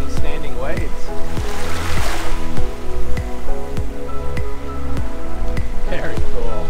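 Fast ebb tidal current forms standing waves at Shroud Cay in the Bahamas. Loud, continuous rushing and churning water comes with regular hollow knocks, and voices are heard nearby.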